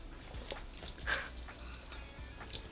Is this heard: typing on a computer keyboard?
no